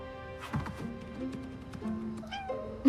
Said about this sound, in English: It's just my cat.